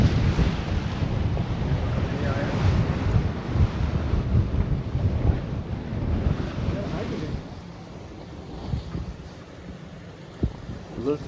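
Strong wind buffeting the microphone with waves washing past a Hallberg Rassy 44 sailing a beam reach in the English Channel at about 7.6 knots in 16 knots of wind, loud and gusty, easing somewhat toward the end.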